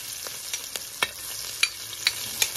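Dried red chillies frying in oil for dragon chicken, with a soft steady sizzle punctuated by sharp stirring clicks and taps of a spoon on the pan every half second or so, close by.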